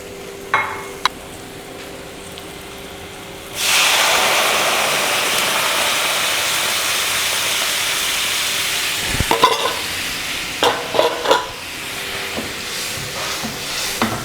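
Ladies finger and tomato curry being stirred in the pan after coconut milk goes in, starting with a loud steady sizzle and bubbling hiss, later joined by scraping clinks of a spoon against the pan.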